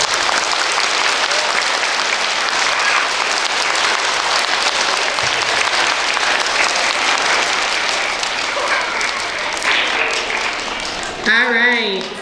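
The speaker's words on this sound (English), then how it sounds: "We can give them a little round of applause." A school assembly crowd applauds second graders with steady, dense clapping that fills the space for several seconds, then thins out as a voice begins speaking near the end.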